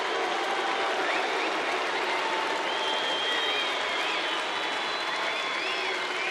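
A baseball crowd at a Seattle at Texas game keeps up steady, dense applause and a broad roar, with sustained chanting voices rising through the noise across the whole stretch.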